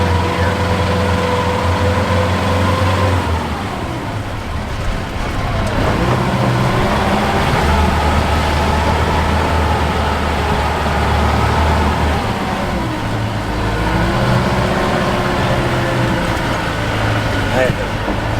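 A Roxor off-road vehicle's engine runs steadily under load while driving along a washed-out dirt track, with a loud continuous drone that shifts pitch as it goes up through the gears. Someone talks over the engine noise.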